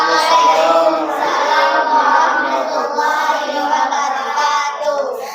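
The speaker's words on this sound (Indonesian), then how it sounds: "Kasih aplaus dulu" Students in a classroom clap together in sustained applause, the dense patter of hands mixed with lively voices throughout.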